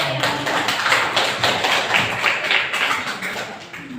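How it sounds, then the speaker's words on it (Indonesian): A classroom of students clapping for a classmate, a dense, steady patter of many hands held for about four seconds without a break. "Beri tepuk tangan untuk teman kalian."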